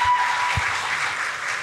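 Applause from a seminar audience in a hall, a dense steady wash of clapping heard briefly and fairly close.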